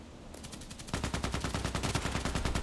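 Rapid automatic gunfire from a shooter video game on the Old Sawmill map, a steady stream of evenly spaced shots ramping up after a quieter, scattered opening and continuing loud to the end.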